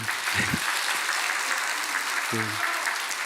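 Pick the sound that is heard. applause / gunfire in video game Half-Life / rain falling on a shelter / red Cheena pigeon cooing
applause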